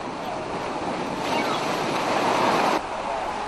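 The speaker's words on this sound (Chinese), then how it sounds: "野柳港外的风浪越来越高" Strong wind and surf pound the reef outside Yehliu harbor in northern Taiwan as Typhoon Morakot approaches, a steady loud roar of wind and crashing waves that swells to a heavier surge mid-clip before easing back.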